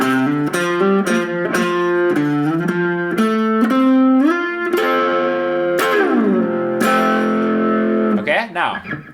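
An electric guitar works through a chord-slide exercise spanning the fretboard, with a series of picked chords sliding up and down the neck in a steady rhythm, close and clear with a slightly distorted tone, ending in a quick descending slide.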